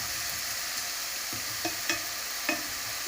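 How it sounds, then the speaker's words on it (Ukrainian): Onion stewing gently in a frying pan, a soft steady sizzle with a few light scrapes of stirring, quiet and close, no voices. "поки цибулька тушкується там"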